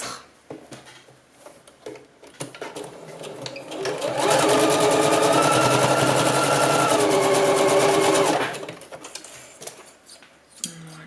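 A sewing machine stitches bias binding to form a loop, running in one steady close burst of about four seconds with rapid needle rattle and motor whine, set between quieter handling noises.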